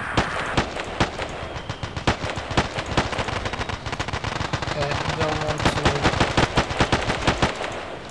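Loud, rapid automatic gunfire from the Battlefield 2 military shooter game, with dense bursts of shots cracking one after another almost without pause for the whole stretch.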